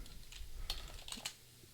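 Several quick, light keystrokes on a computer keyboard as a terminal command is typed, soft clicks in a short quiet burst.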